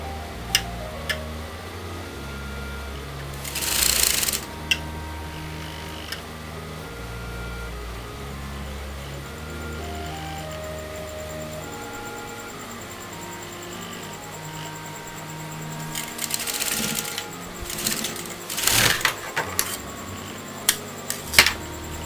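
A sewing machine stitches folded fabric along a kurta seam, running in short mechanical bursts of rapid ticking separated by quieter pauses, loudest near the start and again toward the end.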